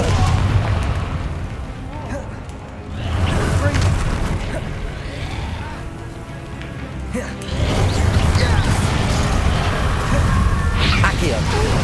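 Repeated fiery Confringo spell blasts in Hogwarts Legacy gameplay, heavy booming explosions that come in loud waves, swelling, easing and striking again across the stretch.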